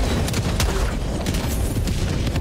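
An explosion in Helldivers 2 erupts into booming, rumbling blasts with sharp bursts of noise at intervals, loud and close throughout.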